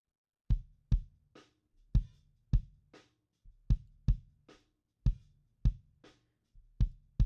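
Low-tuned electronic kick drum, unprocessed without EQ or compression, thudding in a repeating beat pattern with pairs and single hits, dry and close with no other sounds.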